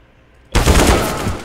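A decoy grenade in the CS:GO video game mimics gunfire: after half a second of near silence, a loud burst of rapid, machine-gun-like shots erupts and rattles on to the end.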